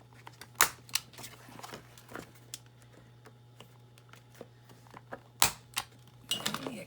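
A corner punch clicks through a paper Christmas tag, a few sharp snaps spaced apart with a quieter fumbling of paper between, close and fairly faint over a low steady hum.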